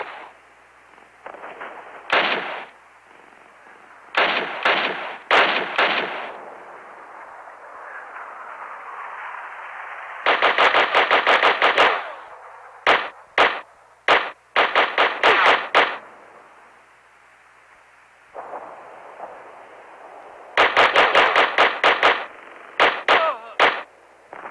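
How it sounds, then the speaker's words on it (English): Bursts of gunfire from the Call of Duty game on a Nokia N-Gage handheld, rapid crackling volleys in several clusters with gaps between, over a steady background hum, loud and close. "Martin, give me covering fire!"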